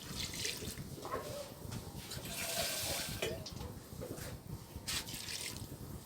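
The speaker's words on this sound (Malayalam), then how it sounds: "കുറച്ച് പച്ചവെള്ളം ഒഴിക്കാം." Plain water pours into a pot of rustic coconut-chunk curry with curry leaves and salt, a soft trickling splash with faint drips, fairly quiet and close.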